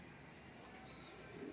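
Pigeons coo softly in a loft, a low continuous murmur of several birds with a faint chirp near the end.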